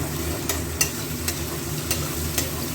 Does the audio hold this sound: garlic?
yes